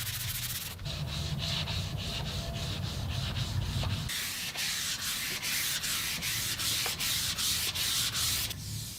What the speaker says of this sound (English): now all I really need to do is spend some time sanding